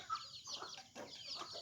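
Chickens being caught at a home yard give quiet, scattered clucks and squawks in short bursts, faint and close, with no speech.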